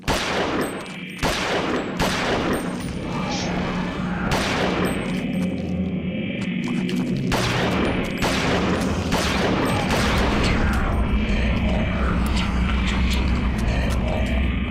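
Repeated gunshots ring out in the Eternal Darkness: Sanity's Requiem video game, loud sharp bursts spaced irregularly over a dense, reverberant background of game noise.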